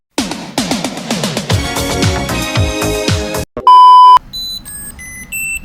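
A JioTag tracker tag's setup sound, triggered by long-pressing its front button: a short electronic melody of rising chimes, then a sustained loud beep followed by a few quieter high-pitched tones, close and clear.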